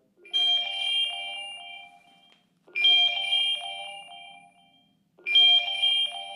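An iPhone sounds a repeating chime alert set off by the find-phone function of a Garmin Forerunner 965 watch, with three bright ringing bursts about two and a half seconds apart in a quiet room.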